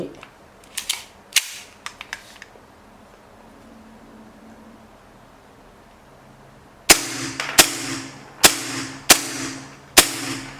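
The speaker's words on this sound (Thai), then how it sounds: "นี่นะครับทดสอบ WEM 92 นะครับ เฉพาะเซมินะครับ" A WE M92 gas blowback airsoft pistol fired on semi-auto, sharp loud cracking shots: a few lighter snaps early, a quiet pause, then five evenly spaced close-range shots.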